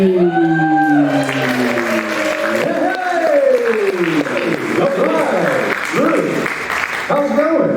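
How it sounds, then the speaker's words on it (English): Audience applause and cheering at a mayoral runoff debate in Athens, Georgia, a steady crowd roar heard beneath a host's loud talking voice throughout. "Give yourself a round of applause for talking about democracy!"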